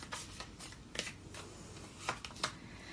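Tarot cards are shuffled and drawn close by, with soft papery riffles and several sharper snaps and flicks scattered irregularly, no talking over them.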